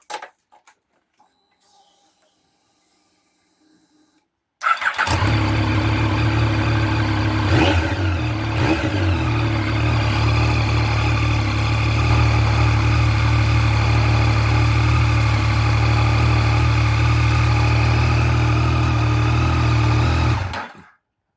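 A Yamaha Tracer with the CP3 three-cylinder engine, freshly reassembled after clutch work, starts after a few seconds of near silence, then settles into a steady, loud, close idle with a brief blip of revs, running alone until it shuts off.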